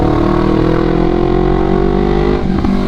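A Honda CBR250RR 250cc two-cylinder motorcycle being ridden on the road in Indonesia gives a loud, continuous engine drone whose pitch sinks slowly as it eases off, with a brief dip near the end.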